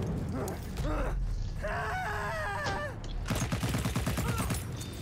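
Gunfire in the video game Battlefield 1, including sniper rifle shots, as sharp repeated cracks in quick bursts near the end, heard under a person talking.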